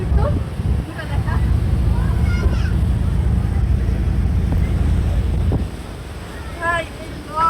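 Riding a passenger launch boat on a river, with a loud steady engine rumble and wind buffeting the microphone, while someone talks over it and other voices come through faintly.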